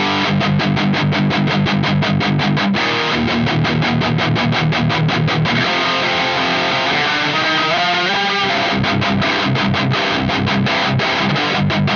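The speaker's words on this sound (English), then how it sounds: "Let's move on to some kind of pop punk type of tones and riffs" Distorted riffs on a Schecter Synyster Custom electric guitar in a pop punk style, loud, with rhythmic palm-muted chugging that breaks into sustained chords and then returns to the tight muted pattern.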